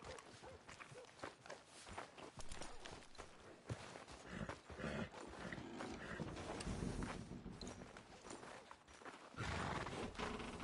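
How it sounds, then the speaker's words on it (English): Horse hooves in Red Dead Redemption II on PS4 clip-clop along with occasional whinnies, layered over busy ambient effects and mechanical noises, fairly loud and continuous. "Are you gonna mount that new horse of yours or not?"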